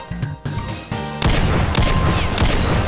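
A chaingunner enemy in DOOM 2 Project Brutality opens fire in rapid, sustained bursts. Loud clattering volleys come after a few separate shots, with no talk over them.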